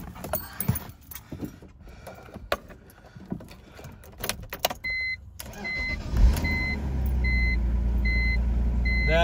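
BMW E46 330ci with a manual gearbox being started: clicks and key rattles, then a warning chime repeating in steady pulses as the engine cranks and catches into a low, continuous idle, close up.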